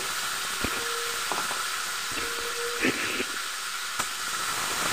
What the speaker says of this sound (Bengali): চিকেনের টুকরোগুলো দিয়ে এগুলোকে ভেজে নিচ্ছি।